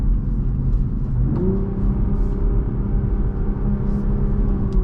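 The engine of a new Toyota Supra blips its revs for a downshift, a sharp rise partway through that then holds over a steady, close rumble inside the car.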